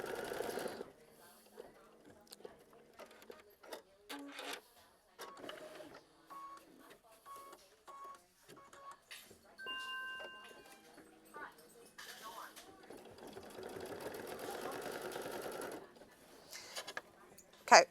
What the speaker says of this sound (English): I'm on machine stitch step 26 now, which is just, again, going to tack this down.